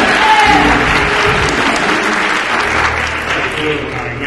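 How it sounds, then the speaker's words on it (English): A congregation claps together in a church service, dense loud applause filling the space steadily without a break. "another hand clap."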